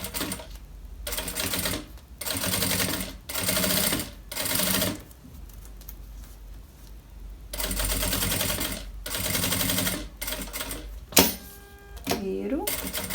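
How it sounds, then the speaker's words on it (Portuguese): Sewing machine stitching around the channel of a bag zipper, in loud rhythmic bursts of rapid needle clatter separated by short pauses, close up, with someone talking between the runs. "E aí, eu vou costurar esse contorno"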